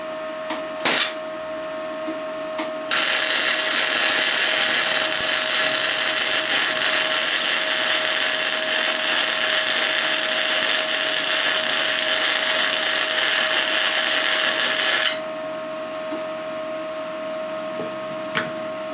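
Flux core MIG welding with 030 wire on a 110 volt Titanium MIG170, a steady loud crackling buzz that runs about twelve seconds, with short clicks and quiet gaps before and after.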